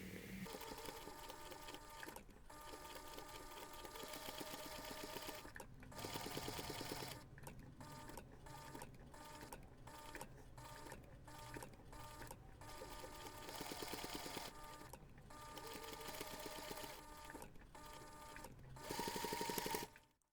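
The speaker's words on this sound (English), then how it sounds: "you're going to take this to the machine and top stitch along that" A sewing machine top stitches along the finished seam of a small reindeer-shaped Christmas pouch, running in steady motor bursts with short pauses between runs, close and alone without talk.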